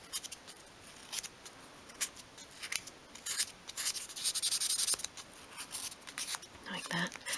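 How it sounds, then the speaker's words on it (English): Sandpaper sweeps over the cut edge of a 1/12 scale miniature mirror frame, making soft, close, scratchy rubbing strokes in uneven bursts that swell louder midway, then ease off. "So just sweep the sandpaper over the corner, tidying up this cut edge as well"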